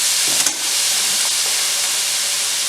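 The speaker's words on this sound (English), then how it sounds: "There's a little bit of ice in there, so that's what's steaming." Frozen spiralized zucchini noodles with a little ice steam in a hot pan, giving a loud, steady hiss with a few faint clinks near the start.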